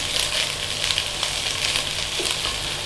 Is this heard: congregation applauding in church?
no